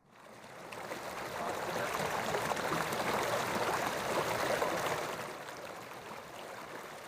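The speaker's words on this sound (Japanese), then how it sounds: "川のせせらぎ" A babbling stream flows steadily, a soft broadband wash of water that swells in and fades slightly toward the end, heard alone.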